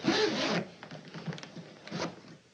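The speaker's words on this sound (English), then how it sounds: "see, it has a zipper" A clothing zipper is pulled quickly in one loud rasping stroke, followed by softer scraping and rustling and a second short zip.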